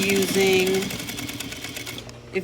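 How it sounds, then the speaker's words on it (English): A sewing machine runs in a short burst of rapid stitching on a belt loop repair, humming steadily before slowing and stopping. "I'll stitch and then I'll go down to the very edge of that loop and stitch again."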